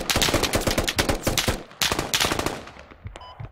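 Heavy gunfire in the military shooter Squad, a dense run of rapid machine-gun bursts and overlapping shots, loud and close, pausing briefly before another burst and then tailing off.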